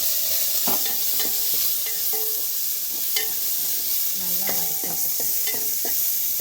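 Onion sautéing with coriander, mint and curry leaves in a hot pan, a steady close sizzle with repeated scraping and stirring strokes from a spatula, no voices over it.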